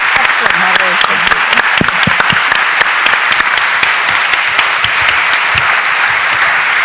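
A large audience claps loudly and continuously after a panel discussion on media narratives about the Arab world, dense steady applause filling a conference hall with a few voices mixed in.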